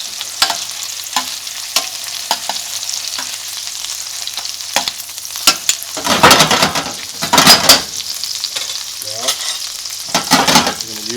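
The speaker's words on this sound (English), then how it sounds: "Now, we're going to use the spoon to baste." Saltimbocca sizzling in a hot pan while a spoon bastes it, loud bursts of crackling fry rising and falling under sharp metal spoon clinks and scrapes against the pan.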